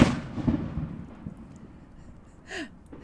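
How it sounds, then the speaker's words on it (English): Neighborhood fireworks show heard from the street: a sharp bang and booming echoes at the start, a fading rumble, then a distant whistling crackle and a final pop. "enjoy the free fireworks show"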